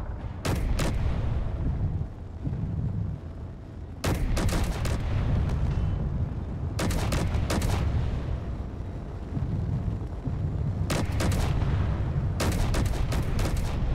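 Gunfire in the space game Space Engineers comes in loud, repeated bursts over a constant low rumble, with sharp cracks clustered at intervals throughout.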